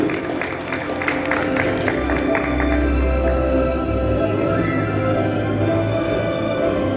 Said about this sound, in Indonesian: Kita berikan tepuk tangan yang meriah untuk Kabupaten Belu.